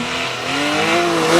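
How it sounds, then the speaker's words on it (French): Porsche 911 type 991 engine revving hard toward its 9,000 rpm redline, the pitch climbing steadily and loud throughout the short burst, with no talk. "qu'on monte dans les tours jusqu'à la zone rouge des 9000 tours minute, le sport du dimanche devient alors compétition"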